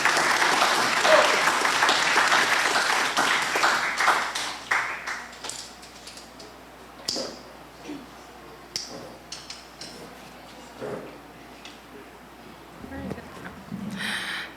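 Audience applause after a speech at a national youth with disabilities conference starts loud and dense, then thins and fades over several seconds into scattered claps and quiet room noise with faint talk.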